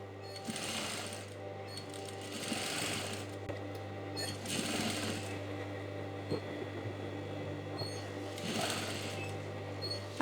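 A sewing machine stitches a straight seam, its motor whirring in a steady, fairly quiet drone that swells in a few longer bursts, with brief pauses and small clicks between runs.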